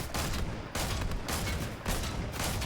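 Gunfire in the video game Fortnite: dense bursts of rapid shots in three loud volleys separated by brief gaps, sustained and close, with no talking.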